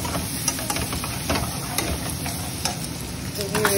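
Vegetables fry lightly in a pan for chicken jalfrezi, a continuous close sizzle broken by repeated scraping stirs and small clicks, with no talking.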